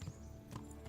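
Hooves of a horse clip-clop faintly in the medieval game Kingdom Come: Deliverance, a few soft steps over a low hum, with no talking.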